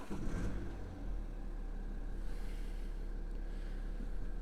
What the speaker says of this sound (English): We'll turn the engine on.